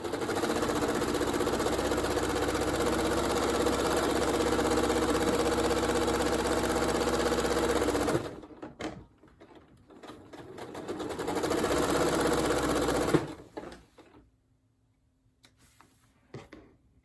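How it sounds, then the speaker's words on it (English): A sewing machine stitches a quilt seam for a log cabin block, running in a steady, fast whir for about eight seconds, stopping, then starting again for a shorter run before falling quiet. "Okay, and I'll stitch this seam."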